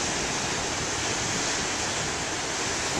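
Big ocean waves break on a beach in a dense, steady roar of surf that fills the whole stretch without pause.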